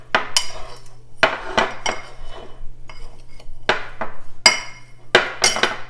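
Cheese being mixed with another ingredient in a bowl, a series of sharp clinks and scrapes of a utensil against the bowl in an irregular rhythm, close and distinct over a faint low hum.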